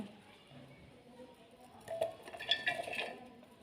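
Chopped beetroot pieces tipped into the jar of a juice maker give a short burst of faint clinks and rattles midway, rising out of a quiet kitchen background.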